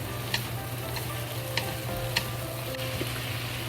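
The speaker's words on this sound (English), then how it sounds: "And now we turn the stove to have the big fire and fry the potato." Thin potato strips and bacon stir-fry over a high flame, a steady loud sizzle broken by a few sharp clicks of a spatula against the wok.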